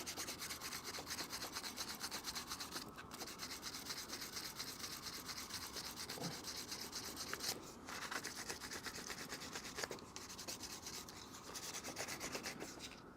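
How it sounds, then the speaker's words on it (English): Steady, continuous scratching of sandpaper rubbed by hand across a scratched stainless watch bracelet from a Pagani Design Moonwatch homage, close up and unbroken for the whole stretch, with only a few tiny pauses and no voices. "I like to use all the sandpaper before I swap it out."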